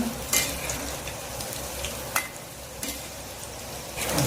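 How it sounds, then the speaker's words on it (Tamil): Okra (ladies finger) pakoda batter frying in hot oil gives a steady, close bubbling sizzle, with a few light clinks of utensils in between. "இப்போ பாருங்கள் எண்ணெய் வந்து நல்லா ஹீட் ஆயிடுச்சுங்க"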